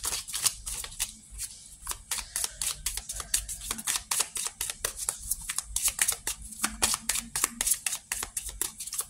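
Tarot cards being shuffled and handled, giving a dense run of crisp riffling snaps and flicks close up, steady for the whole stretch with no voice.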